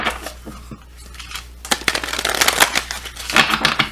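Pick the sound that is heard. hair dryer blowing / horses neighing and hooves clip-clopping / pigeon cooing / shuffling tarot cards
shuffling tarot cards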